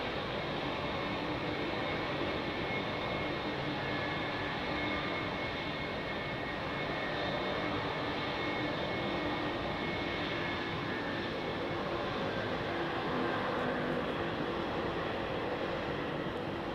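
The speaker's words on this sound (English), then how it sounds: "Morgan, nice sound of the roaring jet engines." Departing passenger jets with General Electric engines roar in a steady, unbroken broadband rumble that stays constant from start to finish, heard from a distance and with no voices.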